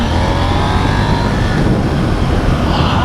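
A KTM 890 Duke R motorcycle out on a test ride, its engine a loud, steady drone mixed with rushing wind that holds without break throughout, with no talking.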